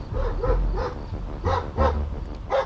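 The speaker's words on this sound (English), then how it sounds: "That guard dog, that wasn't just to keep the detainees in. That also keeps visitors out." A guard dog at a detention site barks repeatedly, about seven sharp barks in irregular bursts. The barks are fairly close and sound on their own, with no talk over them.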